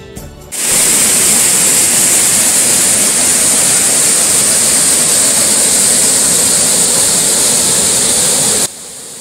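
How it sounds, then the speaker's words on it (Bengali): A huge waterfall in Darjeeling roaring loudly and continuously up close, a dense rushing wash of water that starts abruptly after a brief quiet moment and cuts off near the end. "এভাবে ঘন্টাখানেক চলার পর আমরা দাঁড়ালাম একটা দুর্দান্ত বিশাল ঝর্ণার কাছে"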